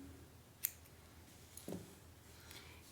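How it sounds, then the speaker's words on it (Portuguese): Scissors snip through crochet yarn while a baby's crib blanket is being made, giving a couple of quiet, close clicks in an otherwise hushed room. "Então, eu corto a linha,"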